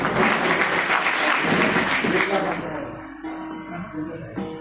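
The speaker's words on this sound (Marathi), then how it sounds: "टाळ्या तुम्ही कशा वाजवल्या नाही, भरीव टाळ्या वाजवायच्या।" Loud crowd applause, dense clapping that gradually thins and fades out.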